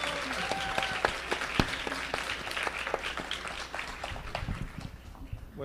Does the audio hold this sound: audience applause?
yes